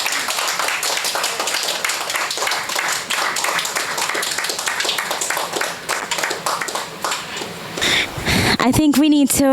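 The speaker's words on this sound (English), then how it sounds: "I think we need to give another round of applause for that beautiful" An audience claps steadily after a performance of a song, a dense mix of many hands with some louder individual claps near the front, fading before a voice comes in at the end.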